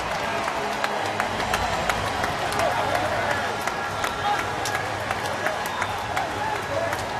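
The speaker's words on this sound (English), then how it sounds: "That'll wake up this Sunday crowd." Sunday afternoon baseball stadium crowd roaring after a grand slam, a dense sustained cheer with scattered clapping throughout, while a broadcaster's voice talks over it.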